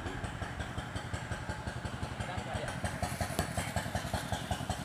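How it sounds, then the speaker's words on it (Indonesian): Diesel engine of a hand tractor plowing a rice field chugs in a fast, steady pulsing rhythm close by, with a person speaking over it. "Ini ada suara diesel Pak Romdoni Meluku"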